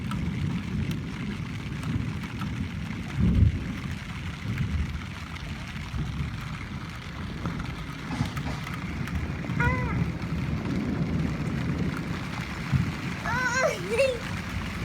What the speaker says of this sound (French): Ça fait du bien un peu de pluie là.